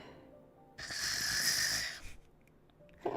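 A sleeping character in the video game Genshin Impact gives one drawn-out, raspy snore, loud and close, standing alone against near silence.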